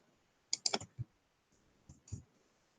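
Several quick clicks on a computer keyboard during typing, a close cluster of taps early on followed by a short pause and a couple more isolated keystrokes, fairly quiet with no talking.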